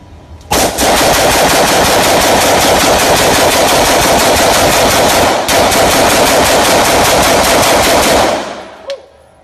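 A gun fires a rapid mag dump, a continuous loud burst of gunfire lasting about eight seconds with one brief hitch midway before stopping.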